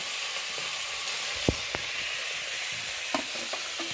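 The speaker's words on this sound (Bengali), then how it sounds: "এবার মাথাটা ভেজে নেব" Tangra fish heads from the sea sizzle steadily in hot oil in a pan, a close, continuous frying hiss broken by a few sharp pops and spatters.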